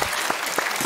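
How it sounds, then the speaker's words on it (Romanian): Dense applause from a comedy show audience, a short burst of steady clapping with no one speaking. "Vreau să aplaude."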